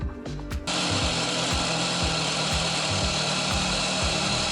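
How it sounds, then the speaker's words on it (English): A Dremel rotary tool cuts an outline into a panel for an instrument display at a boat's navigation desk. It starts abruptly with a loud, steady high-pitched whine and rasping bite that holds close and constant throughout. "Started by cutting the outline with the Dremel, then finished the cut with an oscillating multi-tool"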